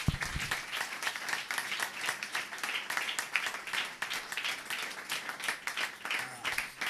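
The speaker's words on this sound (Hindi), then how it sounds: "अपने लिए जोरदार तालियां बजाएं जरा" At a Hindi-language Christian sermon, a congregation applauds steadily and energetically, a dense wash of many hands clapping that holds for several seconds without letting up.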